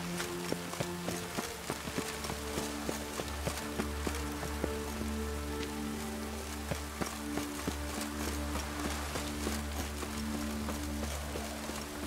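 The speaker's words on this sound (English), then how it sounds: "Rain." Steady rain in The Witcher 3 patters continuously on surfaces, with faint repeating taps over a low hum and no speech.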